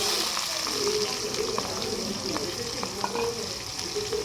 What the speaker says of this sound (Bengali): এবার আমি গরম তেলে পেঁয়াজটা দিয়ে দেব।